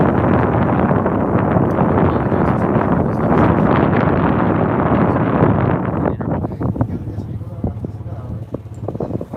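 Strong wind buffets the microphone on the deck of a dive boat on the Pacific near the Ogasawara islands, loud and rushing for about six seconds before easing into lighter gusts and scattered knocks.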